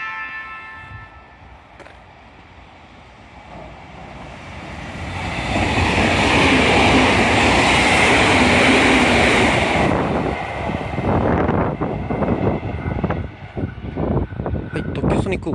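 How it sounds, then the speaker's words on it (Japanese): A Sonic limited express train rushes through a station at speed on a Japanese railway line, a loud broadband roar swelling over several seconds, then fading into rattling clatter as the cars pass. "特急ソニック号が通過してきました"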